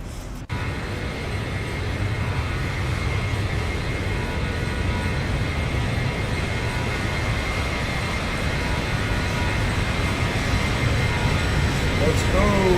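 An airliner making a flyby in X-Plane 12 or Microsoft Flight Simulator: a steady, loud, broad jet-engine roar that holds even throughout, with a brief swell near the end.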